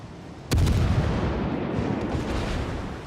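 A sudden loud cannon salvo from the HMS Emerald cruiser in World of Warships booms out, then rolls into a long, heavy, rumbling decay that lingers for several seconds.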